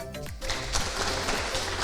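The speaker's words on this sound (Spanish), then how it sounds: "voy a pedir para ella un fuerte aplauso" Audience applause at a live Spanish-language literature program, a steady broad wash of clapping that swells after a brief quieter start and holds loud to the end.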